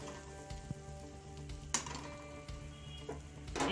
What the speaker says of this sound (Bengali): তো সয়া সসটা দিয়ে আমি 30-40 সেকেন্ড মতন এভাবে নাড়িয়ে নিচ্ছি।